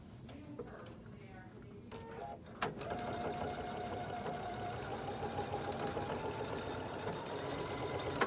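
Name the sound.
sewing machine top stitching a cork handbag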